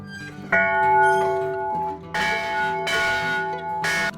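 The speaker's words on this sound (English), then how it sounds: "So this bell's from 1898." A large church bell cast in 1898 rings with deep, sustained tones, struck several times, each strike bright and resonant, heard close with no voices.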